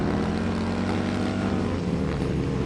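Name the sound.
Harley-Davidson CVO Road Glide bagger motorcycles racing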